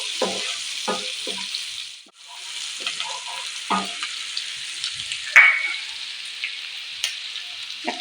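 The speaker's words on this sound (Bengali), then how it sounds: "এরপরে আমি কাঁচা লঙ্কা কুচিটা দিয়ে দেবো।" Chopped green chilies frying with garlic in a pan for butter garlic chicken, a steady soft sizzle running throughout with intermittent scraping stir strokes and clinks, close up, with no voices.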